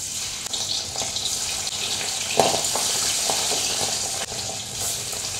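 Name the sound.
fish frying in oil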